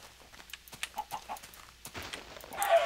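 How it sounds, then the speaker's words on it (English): Chicken in the Minecraft video game clucking in a few short, moderately loud bursts over a quiet background, with a brief rustling burst near the end. "Where are you, chicken?"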